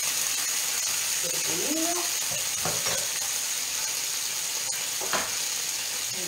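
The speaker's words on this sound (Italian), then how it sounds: "mettere un pochino di acqua per far cuocere i nostri carciofi" Water hisses and sizzles in a pan where artichokes cook beside octopus, a steady close hiss running the whole time while someone talks over it in Italian.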